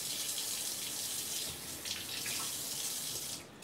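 Water runs steadily from a tap into a sink while a salt shaker is washed, a continuous close rushing flow that dips briefly partway through and cuts off at the end.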